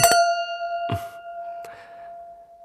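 Glasses clink brightly in one clear strike that rings and slowly fades, followed by a couple of softer knocks.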